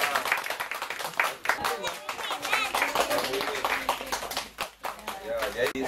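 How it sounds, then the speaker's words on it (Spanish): Children and adults clap together at a small gathering, a brisk, continuous patter of hands lasting several seconds, mixed with voices talking over it. "Muy bien, aplauso para Brenda"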